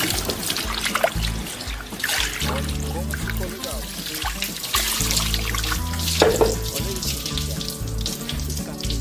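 Water trickles and splashes as a sanded glass vase is rinsed, a steady close pouring sound mixed with loud background music throughout.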